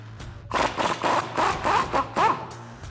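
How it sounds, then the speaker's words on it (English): A 21 mm socket loosens a nut from a bolt on the rear coil-spring mount of a 2009-2018 RAM 1500 pickup, making a series of rapid, gritty ratcheting strokes with a slight squeak. It is close, with no speech. "So I'm going to use a 21 millimeter socket to get this guy off."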